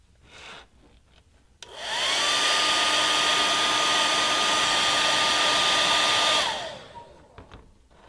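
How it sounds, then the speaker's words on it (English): A hair dryer or heat gun heating Teflon surfaces switches on with a rising whoosh, blows loudly and steadily for about five seconds, then winds down. "heat the Teflon surfaces with a heat gun or a hairdryer until the surfaces are warm to the touch"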